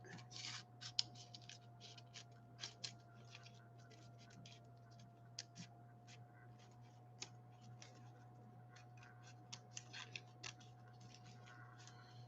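Scissors cut a paper circle in a run of faint, close snips and scratchy clicks scattered irregularly over a low steady hum.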